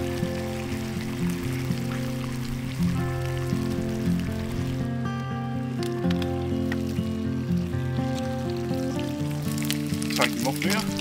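Bacon frying in a pan at a campsite gives a steady, even sizzle that runs the whole time beneath prominent sustained background music.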